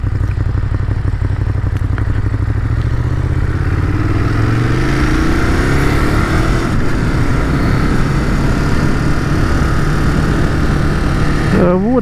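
A motorcycle engine runs up close while the bike turns around, a loud steady drone whose pitch climbs as it revs, with rattling clatter underneath.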